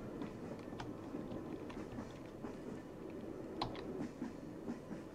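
Steady low rumble of a passenger train rolling along in Train Travel Simulator, a Russian sleeper-car journey, with faint rattling clicks and a few brief metallic ticks over a constant droning bed, no talking.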